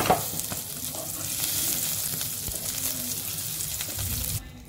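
Pieces of parwal (pointed gourd) frying in oil in a kadhai, a steady close sizzle with faint scraping stir sounds, continuous and even for several seconds before cutting off abruptly near the end.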